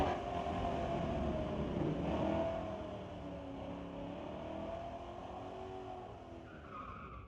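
A pair of Corvettes launch and accelerate down a drag strip at Mission Raceway Park's street-legal Friday night, engines roaring with tire squeal and rising pitch as the cars pull away into the distance.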